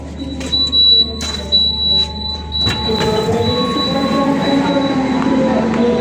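A KA Jaka Tingkir New Generation train pulls into Solo Balapan station, its wheels and carriages rumbling close and steady with a thin high squeal running over the top and a brief louder jolt partway through.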